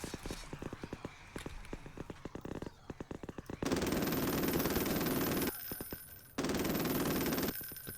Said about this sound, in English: let's just resort to using the machine gun then